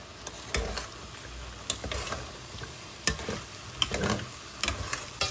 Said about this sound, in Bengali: পেঁপে বাগার দিব এখন, পেঁপে হয়ে গেছে।